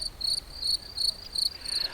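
Crickets chirp in a steady, evenly spaced pulse, a thin high trill repeating about every quarter second, clear and alone over a faint hiss.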